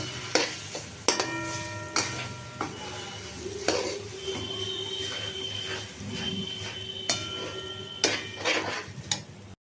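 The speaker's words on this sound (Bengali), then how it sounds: "এবার এটাকে ভালো করে কষতে হবে" Aloo dum, spiced potatoes for a rainy-day kachori meal, stirred and sautéed in a pan with salt and sugar added. A spatula scrapes and taps the pan in irregular strokes over a steady low sizzle, close by.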